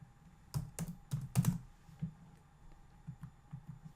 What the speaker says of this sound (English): I'm going to type the word length up here